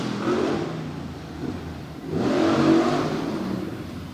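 The Black Stallion monster truck, driven by Mike Vodders of Hagerstown, Maryland, roars at a freestyle event in Bloomsburg, PA, its big engine revving in two long surging swells, loud and steady.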